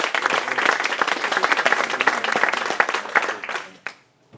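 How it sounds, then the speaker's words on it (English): An audience at a hobby gaming league awards event breaks into dense, loud applause for a third-place winner, sustained and then tapering off quickly to silence. "Well done, massive round of applause."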